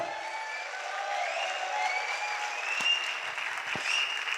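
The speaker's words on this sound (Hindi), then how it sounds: "एक बार सर के लिए प्यारी सी दमदार हल्ले वाली क्लैपिंग जरूर होनी चाहिए, जोरदार" An audience at a network marketing anniversary event breaks into sustained, dense applause, steady clapping filling the hall throughout with no talk over it.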